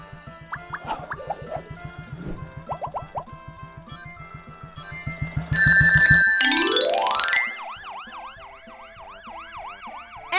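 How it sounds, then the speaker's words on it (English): An ambulance siren wails in rising and falling sweeps, loud and close, entering after a stretch of rhythmic beeping tones and continuing to the end. "Ambulance."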